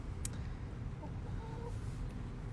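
A backyard chicken gives a few soft, faint clucks against a steady low outdoor background, with no talking.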